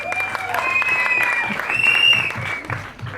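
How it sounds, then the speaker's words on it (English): An audience applauds at a Hindi film promotional event, a few seconds of close clapping with some voices mixed in. "Big round of applause for her as well."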